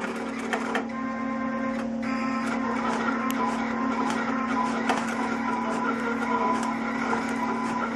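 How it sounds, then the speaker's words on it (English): A vinyl cutter slices an Armalex selective adhesive mask, a steady machine hum with a sustained tone running throughout and intermittent mechanical clicks and carriage movements layered on top, close and continuous without speech. "It is now cutting the mask."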